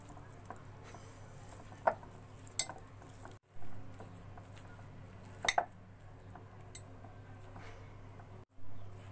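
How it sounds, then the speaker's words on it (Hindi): Boiled potatoes being mashed with a fork in a bowl for a potato spring roll filling, heard as scattered, sharp metallic clinks and soft scraping over a quiet background, with no talking. "अब हम आलूओं को कांटे की मदद से मैश कर लेंगे।"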